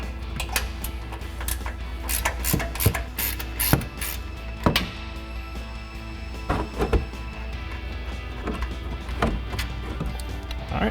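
Wrench ratcheting out a locking nut on a RAM 1500 front upper control arm, quick metallic ratchet clicks in irregular bursts over a low steady background.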